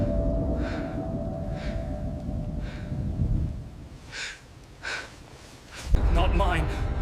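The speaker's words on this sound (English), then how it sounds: "That's when I heard breathing." Slow, heavy breaths in a horror story, five or six drawn-out inhales and exhales spaced a second or so apart over a low hum, followed by a sharp burst of noise near the end.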